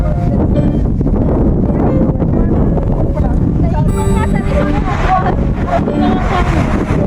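Strong wind at Saud Beach in Pagudpud, Ilocos Norte buffets the microphone in a continuous loud rumble, with people talking faintly underneath.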